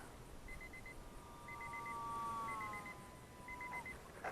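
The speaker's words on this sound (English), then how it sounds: "Let me turn off this timer." A timer beeps in short evenly spaced bursts, about one per second, faint over steady wind and outdoor noise while a micro RC bush plane flies, with a thin wavering motor whine drifting past.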